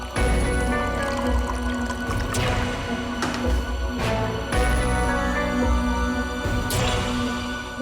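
Water is poured for a guest in an indoor home setting, a close splashing trickle with a few short clinks and bursts, played without any talking.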